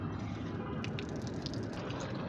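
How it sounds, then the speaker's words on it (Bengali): Water being poured onto garden plants in the evening, a faint, steady splashing and trickling with soft drips, low in level and without speech. "সৌভাগ্য সব গাছে অল্প অল্প করে জল দিয়ে দিচ্ছে।"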